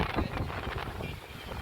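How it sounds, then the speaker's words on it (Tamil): Strong wind at the Kanyakumari seaside buffets the microphone in a constant low roar, gusting loudly near the start and easing slightly later, with no voices. "காற்று பயங்கரமாக அடிச்சிட்டு இருக்குங்க."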